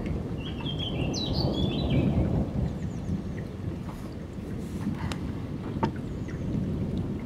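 Thunder rumbles nearly without pause through a night thunderstorm at Amboise, with steady rain underneath, a few birds chirping and several sharper nearby cracks, no voices.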